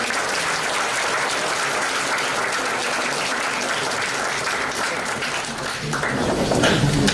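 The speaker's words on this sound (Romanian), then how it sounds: "să-i aplaudăm puțin" Sustained audience applause from a crowd at an event in Romania, a steady dense wash of clapping filling the whole stretch and swelling slightly toward the end.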